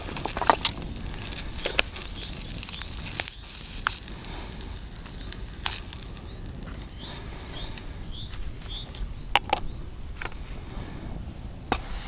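Sausages sizzle and crackle in a hot pan, a soft continuous hiss broken by scattered sharp pops and clicks.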